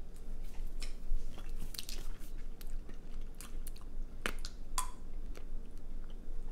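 Someone crunches and chews sour cream and onion flavored sunflower seeds up close, with sharp cracking bites scattered over steady mouth noise and no talking.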